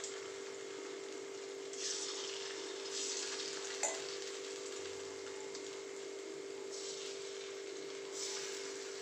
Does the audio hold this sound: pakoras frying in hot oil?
yes